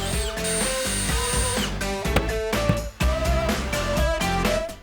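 A power drill bores 2-inch holes into a desk near monitor mounts, loud and close, its motor whine running under bright music with brief pauses between bursts.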